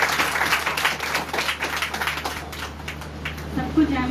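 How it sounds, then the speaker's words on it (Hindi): A church congregation claps in a fast, irregular patter while a voice keeps speaking over the applause. "जोरदार ताली दीजिए।"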